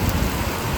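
Heavy monsoon rain in Meghalaya, a dense steady roar with low rumbling, heard only briefly and with no one speaking.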